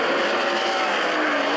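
Loud, continuous roar of sprint cars racing around a Grays Harbor dirt track, engines screaming at full throttle with a steady, dense wall of sound and no pauses.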